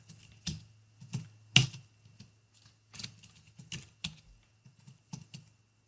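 Keystrokes on a computer keyboard as an administrator password is entered, a dozen or so separate clicks in irregular bursts, close and fairly quiet over a low steady hum, with no voices.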